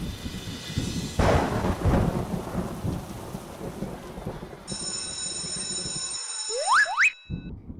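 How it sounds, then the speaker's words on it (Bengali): Heavy rain pours steadily while a low rumble of thunder rolls through, followed by a ringing electronic tone near the end that cuts out briefly. "বৃষ্টি তো সকাল থেকে পড়ছে"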